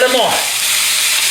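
A fresh splash of Shaoxing wine hits a hot gochujang pork and vegetable stir fry, giving a sharp hissing flare at the start that settles into a steady, close, loud sizzle.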